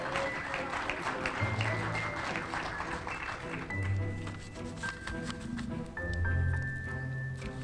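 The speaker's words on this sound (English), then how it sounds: "please give a big round of applause for Joe, and we'll get started." Applause from a crowd at the outdoor dedication of a vintage fixed-track trolley line in St. Louis, a moderate clatter of hands mixed with low rumbling background noise and brief tonal sounds.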